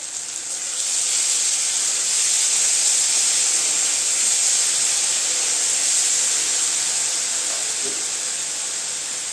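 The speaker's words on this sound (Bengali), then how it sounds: "এর মধ্যে আমি দিয়ে দেবো এখন যে পেঁয়াজ, রসুন, আদার পেস্টটা" Onion, garlic and ginger paste hits hot oil over reddened onions for a Bengali egg do pyaza, giving a loud, steady sizzling hiss that rises within the first second and holds evenly to the end.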